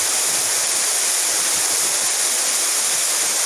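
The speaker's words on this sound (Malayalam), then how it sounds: "നമ്മൾ ഈ വെള്ളച്ചാട്ടം ഉടനെ തന്നെ കാണുന്നതായിരിക്കും." Waterfall at Marayoor in the hills: a continuous, dense roar of falling water, loud and unbroken for the whole stretch, with no voices.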